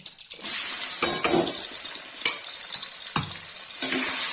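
Steady sizzling of onions frying in a hot pan, with a few scraping stirs cutting through the hiss.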